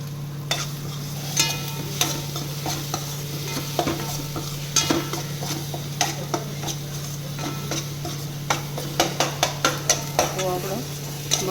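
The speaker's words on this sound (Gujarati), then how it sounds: "ટમેટા એકદમ મરચું પણ એકદમ ક્રિસ્પી થાય ત્યાં સુધી હલાવશું." Tomato and chilli masala stirred in a pan for fried okra, with a soft sizzle under a low steady hum and frequent close clicks and taps of a spatula against the metal, in irregular bursts.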